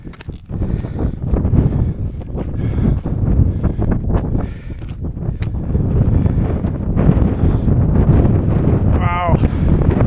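Strong gusty wind on a California mountain top buffeting the microphone in heavy, continuous roars, with a voice briefly calling out near the end.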